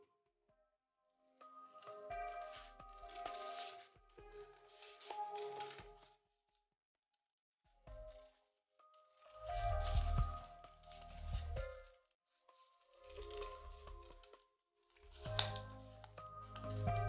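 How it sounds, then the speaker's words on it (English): Scissors snip through paper while a paper rose is made, a series of close, crisp cutting bursts separated by short pauses, quiet and without talk. "with the help of scissor, cut from this end."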